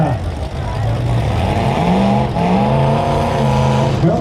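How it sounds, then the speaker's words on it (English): A demolition derby truck, number 62, rolls into a county fair arena, its engine a steady, continuous drone beneath an announcer's loud talk over the PA. "Coming into the arena, that looks like that 62 truck."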